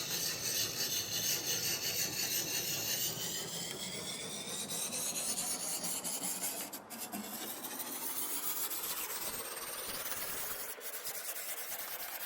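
A blade drawn steadily against a sharpening stone to raise a burr, producing a continuous close rasping scrape with long repeated strokes, slight pitch shifts and a brief interruption midway.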